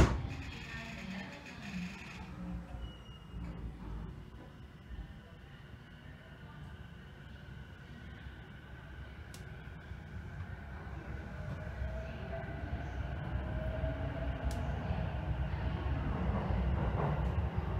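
A Saikyo Line commuter train pulling away from a station platform, with a steady rumble and rising motor whine that grows louder, joined by faint platform announcements.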